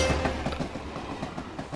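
Train rolling past with continuous rumbling and clattering wheel noise, steady and fairly close for the whole brief stretch, no voices.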